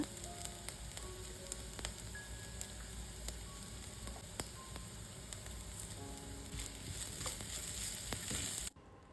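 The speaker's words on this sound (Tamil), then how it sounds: "இது கூடவே கொஞ்சமாக red chilli powder, coriander powder, turmeric powder, salt and hing இதையும் சேர்த்துட்டு நல்லா சாட்டே பண்ணிக்கோங்க" Chili, coriander and turmeric powders with salt and hing sautéing in a pan, a soft continuous sizzle with faint stirring clicks, fairly quiet throughout before cutting off abruptly at the end.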